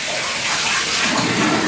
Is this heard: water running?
yes